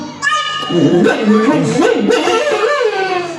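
A man imitates a barking, howling dog with his voice, a loud, continuous yelping and wavering sound lasting a few seconds, close up, with a theatrical stage-play setting.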